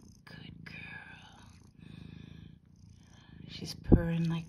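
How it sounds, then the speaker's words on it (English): A mother cat with newborn kittens purrs steadily up close in soft rhythmic waves, with a brief sharp noise near the end. "She's purring like crazy."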